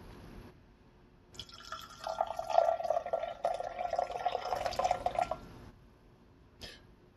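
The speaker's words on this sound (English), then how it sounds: "So then we're gonna pour our coffee in." Coffee poured into a cup as a steady trickling stream lasting about four seconds, fairly close and moderately loud, with a brief clink after it.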